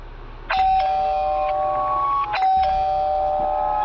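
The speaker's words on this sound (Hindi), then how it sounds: "घर की डोरबेल बजाता है" An electronic doorbell chimes twice, each ring a bright ding-dong tone that lingers before the second press repeats it, clear and close.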